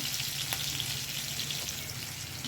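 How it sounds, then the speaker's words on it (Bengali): Green chillies and nigella seeds fry in hot oil in a pan, giving a steady, dense sizzle with a faint low hum underneath and an occasional stirring tick, close by and without voices. "কাঁচা লঙ্কা কালো জিরেগুলো একটু ভালোভাবে নেড়ে চেড়ে কাঁচা লঙ্কাগুলোকে ভেজে নিচ্ছি।"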